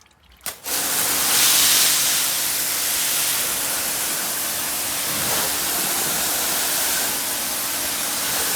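A high-pressure car washer sprays water onto a Maruti Baleno, starting with a sharp click and then a loud, steady hiss of spray that runs unbroken to the end.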